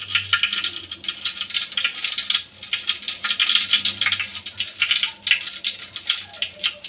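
Cloves dropped into hot oil for beef bhuna, a steady bright crackling sizzle with bursts of spattering, close and continuous.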